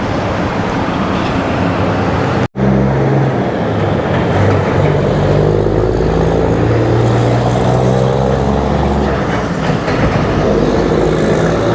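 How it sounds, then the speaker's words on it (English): A loud, heavy truck roars past close by on a small-town street in Owosso, Michigan, its engine rumbling continuously over the whole stretch after a brief cut. "Typical of your small town are large, noisy trucks."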